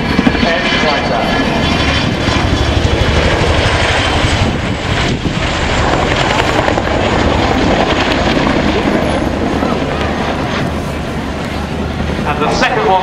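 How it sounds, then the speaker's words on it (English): A large RAF Chinook twin-rotor helicopter roars steadily overhead, its rotor chop and engine thrum loud and continuous throughout, with a broad rushing wash. "big helicopter to keep in the sky, hanging on its end like that"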